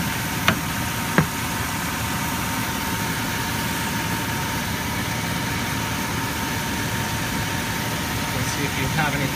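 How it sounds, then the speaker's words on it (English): Car engine idling with the AC compressor running, a steady unbroken drone and hum close by, with a couple of faint clicks near the start. "The AC compressor is doing its job and not kicking on and off"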